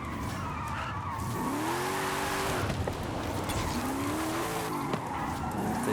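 A car in Forza Horizon 5 drifts using the handbrake. The engine roars continuously, and two long tyre squeals rise and fall as the car slides through corners.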